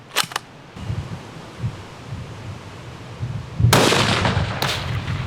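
A single loud .338 Lapua Magnum rifle shot cracks close by, followed by a long rolling echo and a second sharp transient, after quieter handling sounds.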